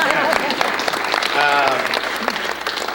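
Guests clapping at a 100th birthday celebration, a steady crowd applause with voices and chatter mixed in.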